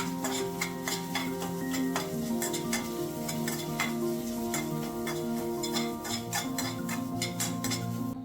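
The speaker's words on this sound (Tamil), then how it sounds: "இப்போ பேனில் எண்ணெய், வரமிளகா, கருவேப்பிலை போட்டு நம்ம பல்ஸ் பண்ணி வச்சுருக்க மசாலாவை இதில் போட்டு நல்லா பச்சை வாசம் போகிற வரைக்கும் வதக்கிக்கணும்" Masala paste with dried red chilies and curry leaves sautéing in oil in a pan: a continuous sizzle overlaid with frequent sharp ticks and scrapes of a spoon stirring against the metal, steady throughout.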